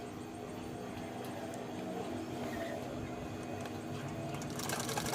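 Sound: sewing machine stitching saree frock

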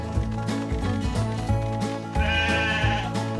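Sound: sheep bleating in Paw Patrol Academy video game

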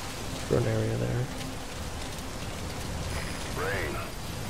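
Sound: rainfall in video game Metal Gear Solid 5

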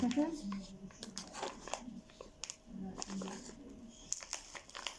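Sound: crinkling of a snack wrapper being opened

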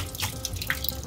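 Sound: rinsing goat meat under running tap water

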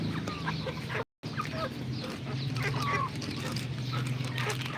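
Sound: Rhode Island chickens clucking

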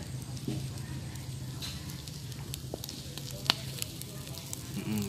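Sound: fat sizzling on grilled eel

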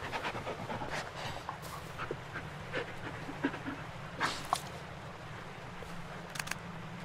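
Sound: dog panting in the video game Blair Witch

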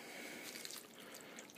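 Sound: chicken broth poured into a pot

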